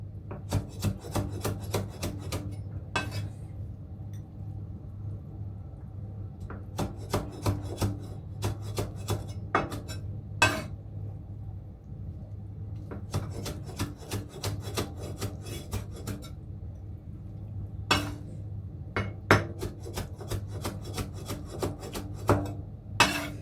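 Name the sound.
knife slicing kimchi on a cutting board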